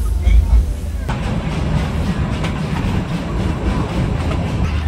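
The Darjeeling toy train pulls into Batasia Loop with a continuous heavy rumble and rattling carriages, loud and close, under a murmur of voices.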